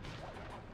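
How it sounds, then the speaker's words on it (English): Grates being smacked and broken in the video game Sly Cooper and the Thievius Raccoonus, a brief faint crashing thwack with a swishing edge, over in under a second. "bear with me for a few more seconds as I smack these grates"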